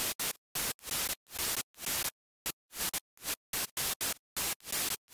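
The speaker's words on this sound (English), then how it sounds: "white noise that follows the same notes as the melody" Bursts of bright white noise from a synth layer, chopped into a rhythmic pattern following the melody notes of a future bounce house drop, hissing on and off with short silent gaps, loud and alone.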